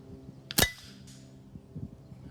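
A MaCavity Arms .22 sniper rifle fires a single shot at a target about 75 yards away: one sharp, brief crack amid quiet surroundings, followed by faint soft rustles.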